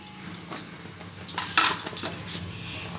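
A metal spoon scrapes and clinks against a dish while dry coconut is measured in for kadam phool pitha, a few sharp taps close by and fairly quiet, with no talking.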